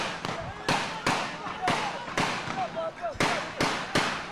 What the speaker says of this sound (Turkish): silah sesleri yükseliyor